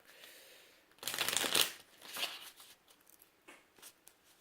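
Tarot cards are riffled and shuffled in a few quick bursts, close by, with short pauses between them.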